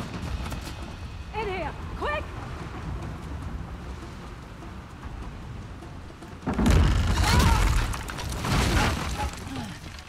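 Gunfire and explosions in the action game Uncharted: The Lost Legacy, a quiet low rumble with faint calls early, then a loud burst of booming blasts and rattling shots in the second half.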